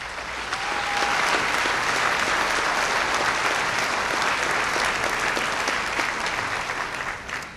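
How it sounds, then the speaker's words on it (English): A steady, dense round of applause fills the room at a fire rescue awards banquet, many hands clapping evenly and fairly loud for several seconds with no talk. "let's give him a round of applause."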